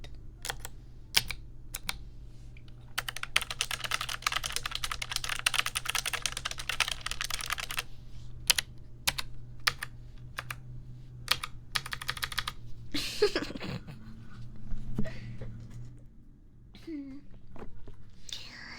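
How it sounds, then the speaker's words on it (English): Worn, battered computer keyboard with damaged keys being typed on up close, rapid bursts of clacky keystrokes and scattered single taps, with a soft whispering voice and a low hum underneath. "You're just on your keyboard, close enough."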